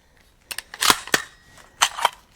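A rifle chambered in .350 Legend fires at a target over a chronograph on a damp range, giving several sharp, short cracks spaced irregularly across a couple of seconds, close and crisp with no talking.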